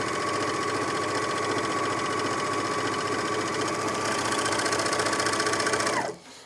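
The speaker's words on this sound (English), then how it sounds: "that's up to top speed there, which is 1500 stitches per minute" A Janome 9300DX overlocker runs steadily at top speed, about 1500 stitches per minute, sewing and trimming fabric with a dense, even mechanical whir that holds loud and constant for six seconds before abruptly winding down.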